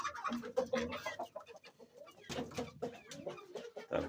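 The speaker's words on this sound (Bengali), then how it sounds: "এগুলো আমার লক্ষ্মী মুরগি, ডিম কোনোদিন মিস দেয় না" Laying hens on a small egg farm clucking, with several birds calling in overlapping bursts close by, alongside rustling movement through the clip.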